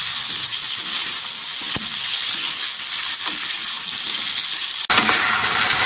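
Meat cooks with salt and turmeric in a hot pan, stirred now and then: a continuous loud sizzle up close with a couple of faint scrapes, ending in a sudden louder burst of hissing.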